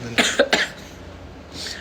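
Two quick coughs close to the microphone from someone with a cold, followed by quiet room noise.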